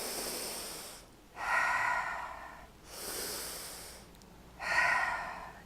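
Slow, deep breathing during a face energy exercise, alternating long audible inhales and exhales close to the microphone, with no talking over it.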